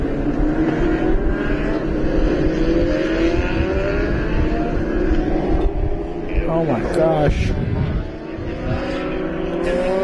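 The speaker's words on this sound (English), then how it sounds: "Racing here in contact between the 2nd and 3rd cars." US Legend Cars racing in a pack at Stafford Motor Speedway, engines roaring loud and steady with rising and falling pitch as they pass, while an announcer talks over the track noise.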